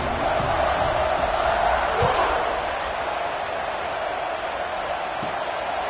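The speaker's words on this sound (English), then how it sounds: "this crowd is buzzing after that last score" A football stadium crowd buzzing with a steady loud roar after a touchdown in a Broncos versus Bears game, with a few faint thuds under the continuous noise.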